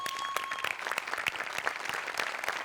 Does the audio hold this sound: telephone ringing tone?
no